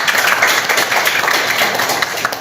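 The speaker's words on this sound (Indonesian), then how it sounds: "tepuk tangan dulu buat menjawabnya" A class applauds a student's answer during a teaching session, a brief burst of dense, even clapping that runs alone and steady for a couple of seconds.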